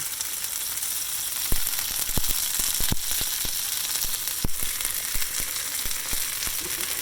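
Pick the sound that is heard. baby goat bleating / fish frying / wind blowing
fish frying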